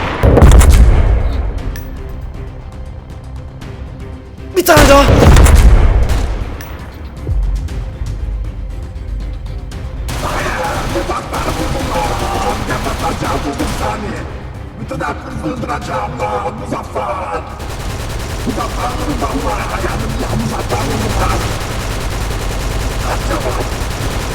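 Gunshots in a Minecraft game, two loud booming blasts early on, then a dense run of rapid shots and crackling fire, with excited voices shouting over them.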